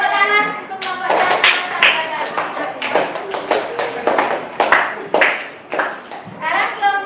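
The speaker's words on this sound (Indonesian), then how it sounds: "silakan duduk tepuk tangan untuk kelompoknya" Students in a classroom give scattered applause for a student group, uneven bursts of claps under a teacher's ongoing talk, close and moderately loud.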